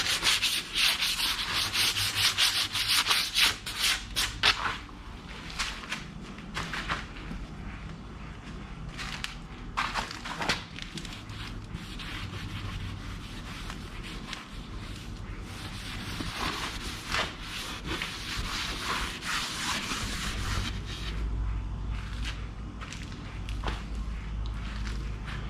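A surface is hand-sanded to rough it up before fiberglass and epoxy are laid over it for a tonneau cover, a close, continuous scratchy rubbing in quick back-and-forth strokes that carries on steadily with brief shifts and pauses.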